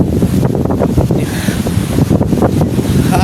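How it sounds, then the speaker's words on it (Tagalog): Strong monsoon wind buffets the microphone in a constant loud roar, with rain and surging waves mixed into the gusty rumble. "Kasi palakas ang palakas yung ano, yung hangin tsaka ulan."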